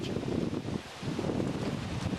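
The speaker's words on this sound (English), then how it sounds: "it's very windy out here." Gusty wind blowing outdoors in a cemetery, buffeting the microphone with a steady low roar that briefly dips before surging again, no voices.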